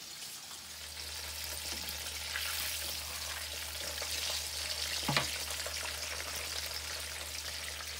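Steady, close sizzle of a breaded schnitzel cutlet shallow-frying in a pan of oil, a continuous crackling hiss with one brief sharper pop midway and no talking.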